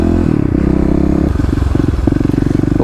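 A fuel-injected Kawasaki KLX351 dirt bike engine, under tuning for a rough-running bog, thumps close and loud with a rapid steady idle pulse, then rises briefly in revs before settling back.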